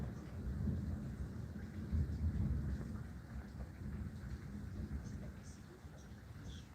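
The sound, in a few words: rain and thunder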